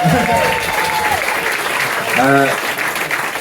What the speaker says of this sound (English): you can clap now if you want